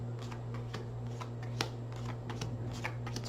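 A deck of tarot cards shuffled by hand during a nine-card reading, with soft repeated riffling and flicking bursts over a steady low hum, fairly close and continuous.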